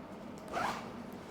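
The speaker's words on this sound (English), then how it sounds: "then you will find these zippers" A ventilation zipper on a motorcycle riding jacket is pulled once in a short, close rasp that swells and fades within about half a second, with no talking.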